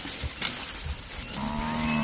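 Cattle on a Pantanal farm: one long, close, droning moo rises out of outdoor background noise near the end.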